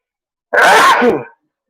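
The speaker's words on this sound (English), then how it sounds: "About to sneeze again. Pepper's getting to me." A single loud, close sneeze set off by pepper at a meal, a sharp burst that ends quickly with no talk over it.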